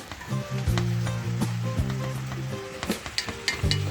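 Cabbage and saltfish cooking in a pot give a steady sizzle with occasional stirring scrapes and clinks, close and moderately loud, with no talking.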